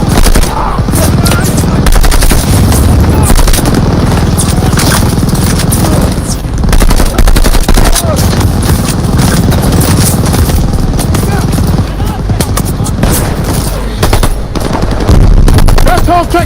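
Sustained machine gun fire from a World War II battle in Call of Duty: Vanguard, loud and continuous with rapid bursts, booming blasts and engine rumble, while voices shout throughout.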